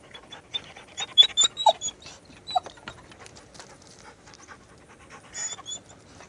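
Female dog making an odd noise while being petted, heard as quick, faint breathy panting puffs and a few soft squeaky whimpers, clustered in short bursts with pauses between, close by and without talking.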